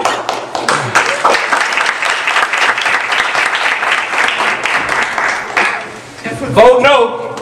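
Audience applause fills the hall at a Benton Harbor mayoral debate community forum: dense, steady clapping that runs loud for about six seconds, then thins as voices and other sounds come in near the end.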